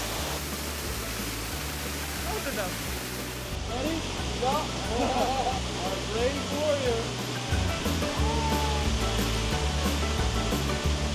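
Steady roaring rush of a waterfall at a desert oasis in Tunisia fills the scene, broad and constant, with people talking over it now and then.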